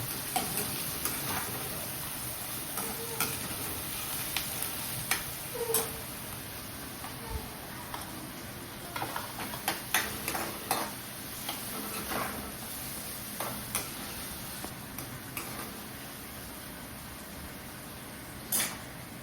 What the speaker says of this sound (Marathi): आपल्या आवडीनुसार टाकायचा कांदा आणि छान परतून घ्यायचं